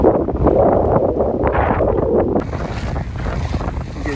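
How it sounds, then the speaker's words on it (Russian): Strong wind buffets the microphone on a bird island shore near Yeysk, a loud continuous roar with gusts, with a sharper shift in texture partway through and no voices. "Ветер, я не знаю, слышно вам или нет."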